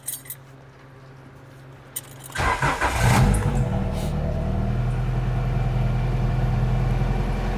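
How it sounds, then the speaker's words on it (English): A 1999-2000 Honda Civic with an aftermarket AC install starts up: quiet idle background, then a cranking burst and the engine catching into a loud, steady running idle that holds to the end. "So the car's running right now."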